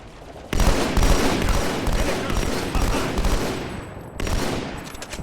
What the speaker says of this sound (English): But you gotta be careful with these snipers.